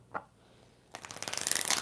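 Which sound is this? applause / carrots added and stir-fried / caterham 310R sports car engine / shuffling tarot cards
shuffling tarot cards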